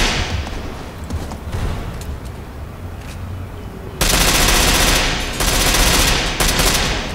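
Loud automatic gunfire in the Ghost Recon video game, rapid bursts of shots that grow denser and louder partway through and continue in sustained volleys.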